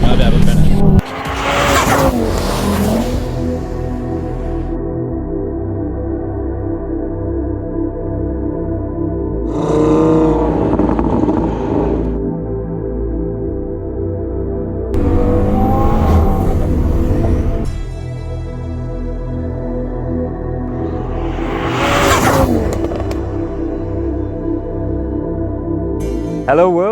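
A Stage 2 MRC-tuned Mk3 Audi TT RS accelerates hard in repeated loud bursts, the engine surging in pulls separated by brief lulls, heard from inside the car with speech over parts of the run.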